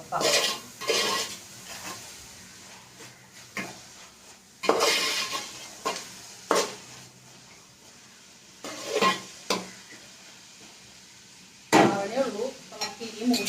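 Country chicken curry stirred in a pan over lowered heat, irregular bursts of spoon scraping and clattering against the vessel between quieter stretches of faint sizzling, close by.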